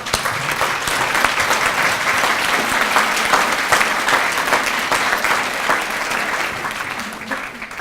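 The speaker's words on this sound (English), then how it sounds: "you've got to stand up, and we're going to applaud you for your birthday, Maggie" An audience at a keynote event applauds for a birthday with a continuous burst of dense clapping that holds steady and loud for several seconds, then tapers slightly.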